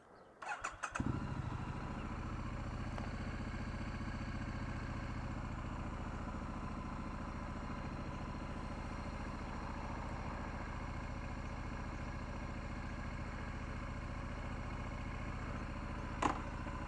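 A Triumph Street Scrambler motorcycle engine catches and settles into a steady, loud idle, a continuous close rumble running unbroken with no talk over it.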